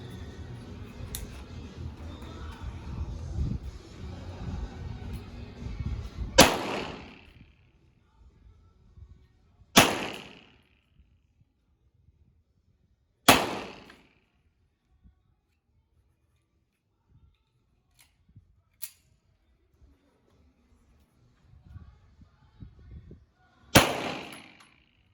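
Weapons fire at an outdoor shooting range as five sharp, widely spaced reports, each cracking out loud and decaying into quiet, after an opening stretch of low rumbling handling noise.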